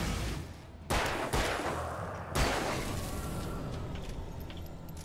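Gunfire from the video game Alan Wake: two sharp shots ring out a second or so apart, each trailing off into a low, steady background ambience.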